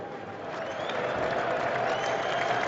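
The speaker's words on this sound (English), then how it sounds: "You can actually hear the crowd now." A cricket crowd at Lord's during a 2005 England versus Australia one-day international: a broad, steady roar of distant cheering and applause, holding an even level from start to finish.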